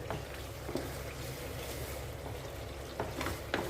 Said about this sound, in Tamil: இப்போ உங்களுக்கு பார்க்கும்போதே தெரியும் எண்ணெய் எல்லாம் மேலே வந்துருக்கு மாங்காய் எல்லாம் உங்களுக்கு துருவின மாங்காயெல்லாம் நல்லா சுருங்கியிருக்கு